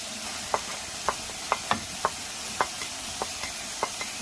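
A spoon taps the pan in a loose, regular rhythm as ground boiled spinach is added to chicken curry, over a continuous soft sizzle.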